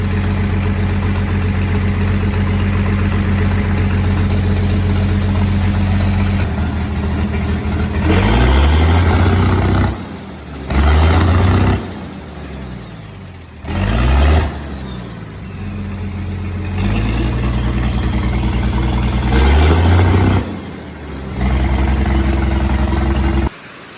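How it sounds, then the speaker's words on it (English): A farm dump truck's engine runs close by, a steady idle broken by several loud revving bursts that rise and drop back, with no talking. "This dump truck runs."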